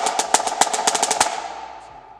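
Snare drum playing an SEC-style marching cadence: a quick run of crisp, evenly spaced strokes with a roll, loud and close, then ringing out into a fading tail alone.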